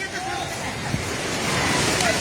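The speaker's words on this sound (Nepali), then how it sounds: "पानी ढुङ्गामा उलिसकेको छ" Floodwater rushes over stones during flooding in Nepal, a loud continuous roar with wind-like hiss throughout and voices faintly mixed in.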